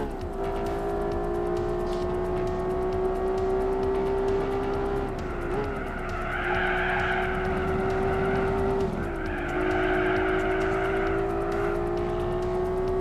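In Gran Turismo 4, a Toyota Supra and a Mazda RX-7 race close together with steady, droning engine whines. Pitch shifts come as the cars change gear, and tires squeal through the corners, loud and continuous.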